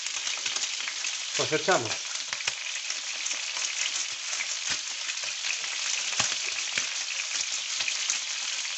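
Pork ribs with garlic fry in a pan with a loud, steady sizzle throughout, and the crackle swells briefly once. A voice speaks a few words over it early on.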